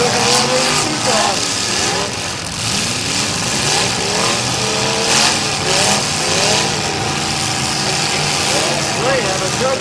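Demolition derby car engine restarting and revving at a county derby, a loud close rumble rising and falling in pitch with repeated throttle surges, under crowd noise and talk.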